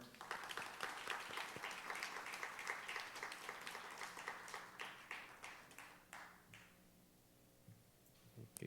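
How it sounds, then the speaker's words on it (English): A conference audience at an education technology showcase gives a round of applause for a keynote speaker; dense clapping holds steady for about six seconds, then tails off into quiet room tone with a few stray claps. "another round of applause"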